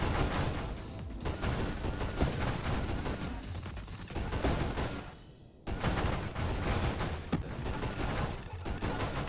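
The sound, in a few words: railgun shots in video game Nova Drift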